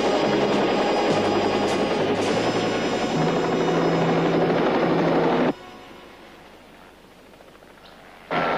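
Helicopter rotor and turbine roar close by in a crime-drama scene, loud and steady for about five seconds before cutting abruptly to a quieter background hum, then swelling again at the end.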